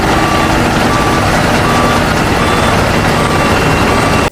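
Toy cement mixer truck giving off loud, continuous reversing beeps over a dense electronic hiss, steady for the full span with no voices.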